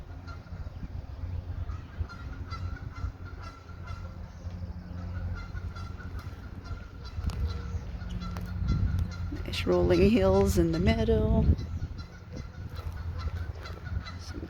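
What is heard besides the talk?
geese honking near a lake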